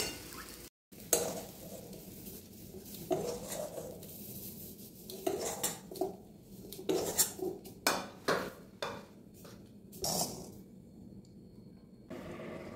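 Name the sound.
wok being taken off the stove after frying pea paste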